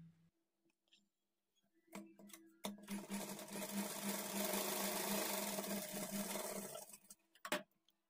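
Sewing machine stitching a lined blouse: a few clicks and taps, then a steady whirring run of about four seconds, moderately close, ending with handling clicks.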